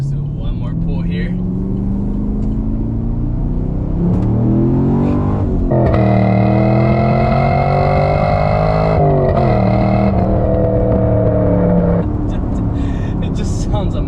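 A fifth-generation Chevrolet Camaro SS V8 engine revs up and climbs in pitch through several gears, loud and close, with a brief lift between pulls and an idling rumble at the start.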